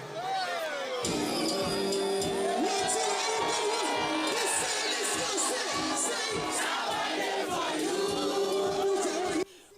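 A large home concert crowd roars, a dense, sustained wall of cheering, screaming and whoops that stays loud and close throughout, with rhythmic chanting pulses underneath.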